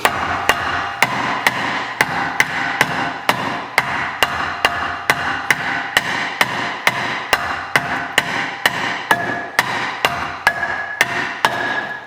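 Steady hammer blows strike a rear brake rotor from a 034Motorsport two-piece rotor brake upgrade, landing in an even rhythm of about two impacts per second, loud and close with metallic ring, and no talking.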